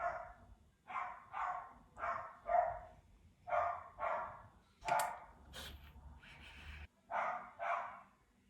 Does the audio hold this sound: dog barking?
yes